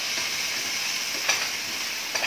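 A tomato sizzles steadily in a hot pan while cooking ampalaya with carrots, a constant hiss of frying with a few soft stirring scrapes and no talking.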